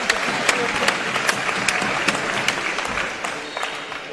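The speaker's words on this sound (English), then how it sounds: "And the Keysborough crowd getting behind their players here." A crowd at a men's basketball game in Keysborough claps and cheers steadily for its home team, a dense, continuous wash of applause from many people filling the whole stretch at an even level.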